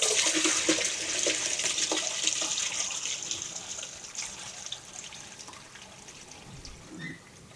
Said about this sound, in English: let me start pouring this into the colander